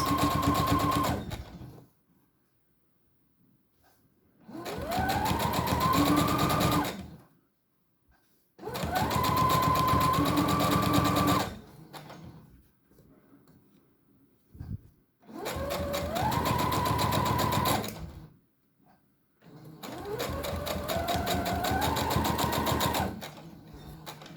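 A sewing machine stitches in five separate runs of several seconds each, with short pauses between them. Each run is loud and close, with a steady mechanical whir that rises in pitch as it speeds up.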